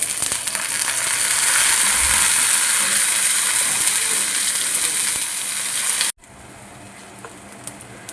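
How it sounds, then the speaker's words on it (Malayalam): Prawns frying in coconut oil in a Kerala home kitchen give a steady, close, dense sizzle that cuts abruptly, leaving a quieter, softer hiss for the last couple of seconds. "ഞാൻ ഫ്രൈ ചെയ്യാൻ വെളിച്ചെണ്ണ ഒഴിച്ചു കൊടുക്കുക കുറച്ച് എണ്ണ ഒഴിച്ചാൽ മതി ഞാൻ ഓരോന്ന് ഇട്ട് കൊടുക്കാം"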